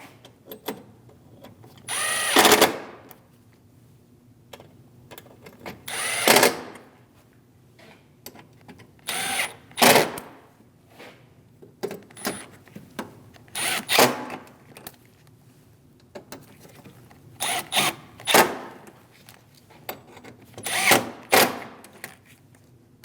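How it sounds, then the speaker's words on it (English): A power drill drives bolts home on a 2016-2025 Chevrolet Malibu 1.5L radiator, sounding as several loud whirring bursts of a second or two, separated by quieter pauses with light handling noise. "Go down the line, snugging down all of the bolts."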